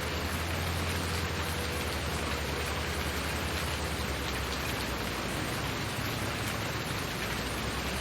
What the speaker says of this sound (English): I imagine we should be able to fertilise in the rain.